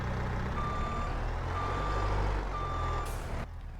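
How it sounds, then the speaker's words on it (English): A skid steer in the Farming Simulator 22 video game idles with a steady engine rumble while three evenly spaced reversing beeps sound out clearly, the engine dropping away near the end. "let's get the skid steer going"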